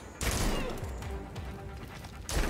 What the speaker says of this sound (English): Enjoying the fireworks.